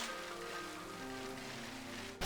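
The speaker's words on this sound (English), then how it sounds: "Okay, it's raining." Steady rain weather ambience from the video game Pokémon Shield, a continuous soft hiss of falling rain at even volume with no talking.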